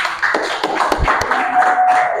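Classroom audience applauding a student group's presentation, a short burst of scattered hand claps at close range.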